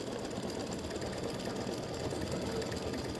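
An embroidery machine stitches freestanding lace for a soccer ball earring, a dense, steady rapid mechanical chatter of needle strokes running continuously without pause, close and even in loudness, with no voices.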